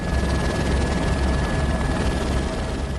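Police helicopter flying overhead: a steady, loud rotor and engine drone with a dense low-frequency chop, continuous and unbroken, with no voices.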